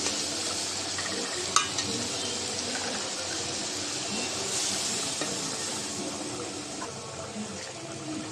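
Broth poured into a sizzling curry of eggplant, potato, tomato and dried fish, giving a continuous hissing, bubbling sizzle with a faint clink, steady and close, no talking.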